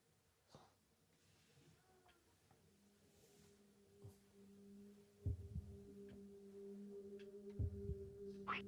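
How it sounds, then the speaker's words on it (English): A heartbeat sound effect in a video game, with heavy low thumps that grow louder partway through, heard over a steady, faint electronic hum and soft background tones. "We've added heartbeats, huh?"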